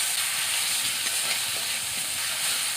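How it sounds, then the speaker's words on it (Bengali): Garlic paste frying in hot oil in a pan, a dense, even sizzle heard up close with faint stirring underneath, unbroken for a few seconds. "রসুন ভাজা ভাজা হয়ে গেছে"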